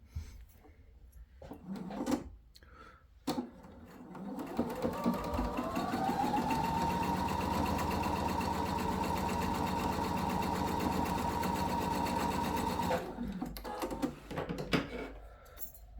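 A sewing machine stitching a seam on a fabric sailor hat: a few clicks and handling sounds, then a long, steady, close motor whir that stops, followed by more fabric handling.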